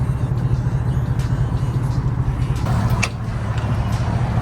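A car pulling away from a body shop, its steady low engine rumble holding close and even throughout without any talk.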